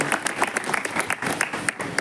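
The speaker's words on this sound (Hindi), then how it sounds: "जोरदार तालियों से एक बार स्वागत कीजिए" Applause from a crowd at a Hindi-language public gathering, dense overlapping claps sustained through the whole stretch at moderate loudness with no speech over it.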